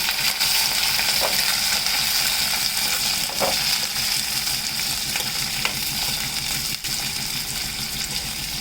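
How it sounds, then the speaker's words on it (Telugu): Soaked legumes fry in hot oil in a kadai, giving a steady, dense sizzle that runs unbroken throughout with occasional faint stirring clinks. "నూనె పోసుకుని దాంట్లో ఇప్పుడు వేయించుకున్నాను"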